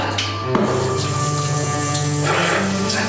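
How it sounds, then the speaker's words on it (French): Shower water streams steadily in a cold Scandinavian-style shower, a dense hissing spray like heavy rain on a surface, close and continuous with a brief knock partway through. "La douche scandinave."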